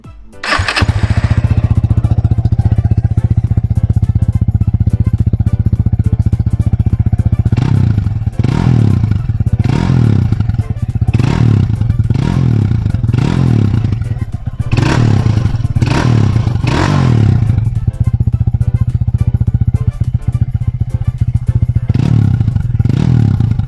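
A SYM VF3i motorcycle engine starts, then idles loudly with a deep, bassy rumble through a Rapido back-pressure exhaust, revved in repeated short bursts, close and continuous.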